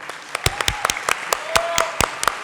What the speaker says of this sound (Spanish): vamos a recibir con un fuerte, fuerte aplauso